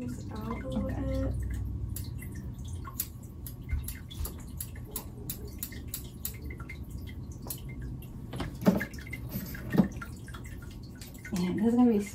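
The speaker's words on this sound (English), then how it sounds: "It is a cat water fountain." A cat water fountain trickles and drips softly in a quiet room, with small irregular droplet sounds and a low gurgle; someone briefly speaks near the start and end.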